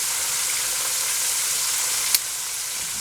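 Chicken pieces fry in an open pan with a dense, steady sizzle and crackle, one brief sharper pop near the end.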